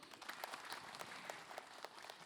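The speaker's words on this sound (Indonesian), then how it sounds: "Tepuk tangan dulu" Faint, distant applause from a crowd, a dense patter of many hands clapping steadily throughout.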